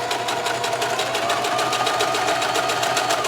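A sewing machine stitches shirring on a top, humming loudly and continuously with a fast, even needle chatter throughout, no voices over it.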